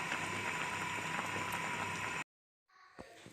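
Mango jam boiling in a cooking pot, a steady dense bubbling and sizzling that cuts off abruptly, followed by quieter faint bubbling and a single knock.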